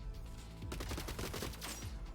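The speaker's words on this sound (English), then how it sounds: "It's going to start shooting." Robots firing weapons in the coding strategy video game Gladiabot, a quick cluster of synthetic gunfire bursts rattling for about a second and a half over a steady game background.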